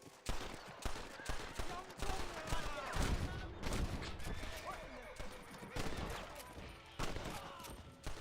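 Repeated gunfire from the Western video game Red Dead Redemption on PS4, a run of sharp shots and bursts spread across the whole stretch at steady loudness, with some game voices mixed in.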